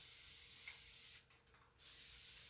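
A continuous spray mist bottle hisses steadily onto a paper napkin, a close, fine broadband spray that stops briefly midway and then resumes.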